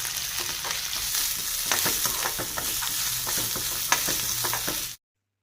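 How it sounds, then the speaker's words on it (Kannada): Onion, garlic, ginger and mint fry in oil in a pan for mutton sambar, giving a steady close sizzle broken by repeated scraping stirs, then cut off abruptly. "ಹಸಿ ಸ್ಮೆಲ್ ಹೋಗೋವರೆಗೂ ಇದನ್ನು ಚೆನ್ನಾಗಿ ಫ್ರೈ ಮಾಡಿ"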